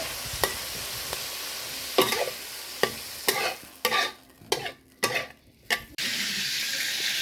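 Rice noodles stir-fried with red sauce in a hot wok: steady sizzling with repeated scraping and tossing strokes from a spatula, close and loud, no voices.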